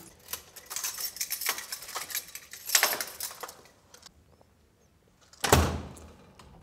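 A door is pushed open on a walk through a museum collection depot, giving a loud knock and rattle of hardware, metallic handling clatter, then a second heavy thud near the end, with no speech.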